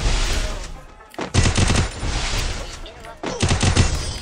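Rapid automatic gunfire in Garena Free Fire comes in two dense bursts separated by a brief pause, loud and close, with a voice talking over parts of it.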